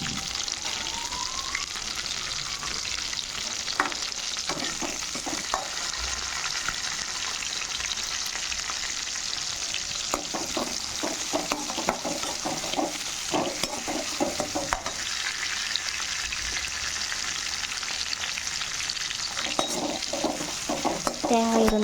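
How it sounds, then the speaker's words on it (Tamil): Shallots, tomato, chili and garlic sauté in a little oil in a pan for horse gram chutney, with a constant sizzle broken by repeated scraping and clinking of a utensil against the pan. "வானலில் சிறிது எண்ணெயை விட்டு இது எல்லாத்தையும் நல்லா வதக்கி எடுத்துக்கணும்."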